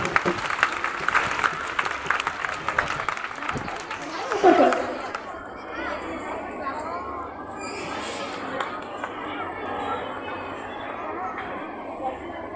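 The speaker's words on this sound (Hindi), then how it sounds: "जोरदार तालियां" Audience at a school annual sports festival prize ceremony claps for medal winners, a broad dense wash of applause mixed with crowd chatter that swells around the middle and then thins to a lower, steady murmur.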